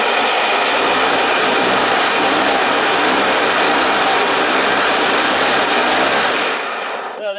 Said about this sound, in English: I'm going to give this thing a good healthy spin and let's see how high we can get the voltage on this.